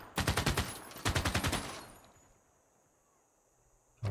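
Two quick bursts of automatic gunfire from units in Civilization VI, each a rapid rattling volley of about half a second, loud and close, followed by a quieter fading tail.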